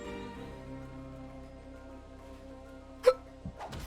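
A game character in Atelier Ryza 2 gives a single sharp hiccup near the end, over a steady background of game music, followed by a fainter second sound.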